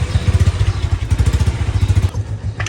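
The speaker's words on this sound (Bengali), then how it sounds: "Bike start." A motorcycle engine close by, sputtering with a rapid pulsing idle that chugs loudly, then cuts off briefly near the end amid light clatter.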